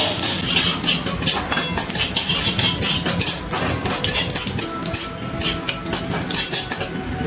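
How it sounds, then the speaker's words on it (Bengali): Dried red chillies and panch phoron tempering stirred in a pan, with rapid scraping and clinking of a spoon against metal, steady sizzling underneath, close and continuous throughout. "একটু নাড়াচাড়া করে নিচ্ছি ফোড়নটা।"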